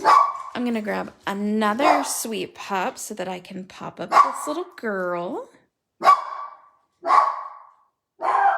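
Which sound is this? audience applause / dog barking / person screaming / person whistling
dog barking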